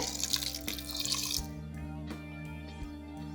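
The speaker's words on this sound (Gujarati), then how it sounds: "હવે સાબુદાણા ડૂબે એટલું આપણે એમાં પાણી એડ કરવાનું છે" Water poured into a bowl over washed sabudana sago pearls, a splashing pour at first, then settling into sparse drips, close and fairly quiet with no talk.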